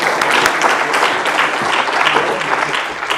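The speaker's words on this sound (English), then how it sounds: "A round of applause for Mr." Audience applause at the close of an IT awards ceremony, a steady dense wash of clapping from a crowd, loud and continuous for the whole stretch without pause.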